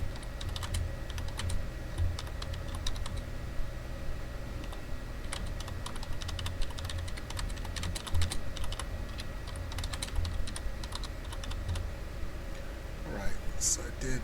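Keys clatter on a computer keyboard while a PowerPoint slide is being filled in, a fast run of close, crisp clicks with short pauses and a low background hum throughout.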